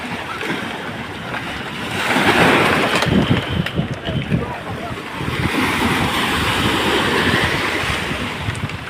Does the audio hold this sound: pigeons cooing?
no